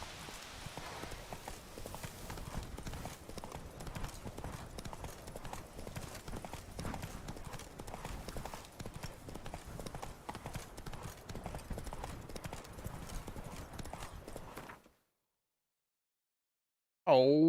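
Hooves of Roach, the horse in The Witcher 3, clip-clop in a continuous steady rhythm for most of the stretch, close and moderately loud, ending abruptly in silence before a brief burst of another sound.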